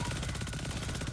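Rapid gunfire from an exotic weapon in a sci-fi shooter video game, a fast, even stream of repeated shots filling a brief burst, loud and continuous with no pauses.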